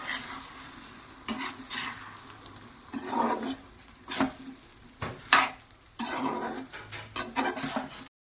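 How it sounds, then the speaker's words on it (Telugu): Soya chunk curry is stirred in a pan in repeated bursts of close spatula scraping and clattering over a light sizzle, with brief pauses between strokes. "సో ఇప్పుడు మనం దీన్ని బాగా కలుపుకోవాలి."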